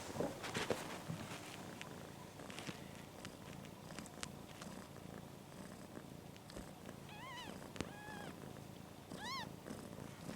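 A mother cat and her kittens in a nest indoors purr softly and steadily throughout, with a few thin, high kitten meows rising near the end, close and faint, with no talk.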